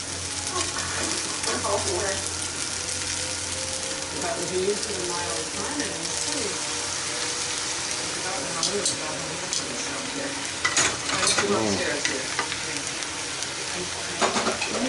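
Noodles stir-fried in a pan with sauce give a steady, loud sizzle with scraping stir strokes, while voices talk over the frying.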